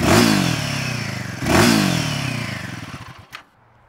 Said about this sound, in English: Shall we start it up and have a listen?